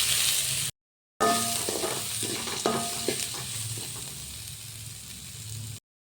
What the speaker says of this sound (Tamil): பச்சை மிளகாய், கருவேப்பிலை, பூண்டு, இது எல்லாத்தையும் ஒன்றாவே போட்டு நல்லா வதக்கிக்கோங்க